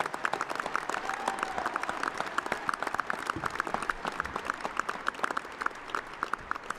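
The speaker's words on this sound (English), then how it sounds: "How about a round of applause for all of our graduates today?" A round of applause for graduates at a spring university commencement for doctoral and master's degrees. Steady crowd clapping with individual claps standing out sharply and close, continuing evenly throughout without talk.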